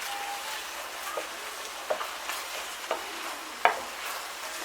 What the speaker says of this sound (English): So I'll give it a mad stir for about a minute